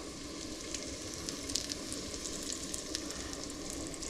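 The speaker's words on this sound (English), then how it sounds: "just gonna wait till that sounds like it's sizzling before I put the rest in." Pieces of steak sizzle in a hot pan for a southwest steak bowl, a steady close frying hiss with scattered crackling pops throughout, no voices.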